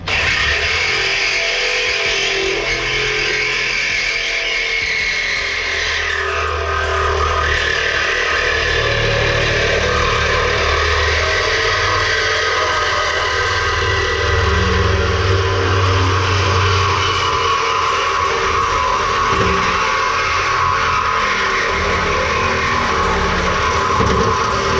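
Reciprocating saw chopping through the exhaust of a Mustang GT during a DIY sport exhaust install, a steady loud buzzing rasp that runs continuously for the whole stretch, with rough low rumble and metallic grinding throughout.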